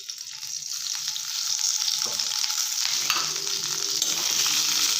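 Green chillies frying in hot oil in a pan for a North Karnataka chilli palya, a steady close sizzle with occasional stirring scrapes.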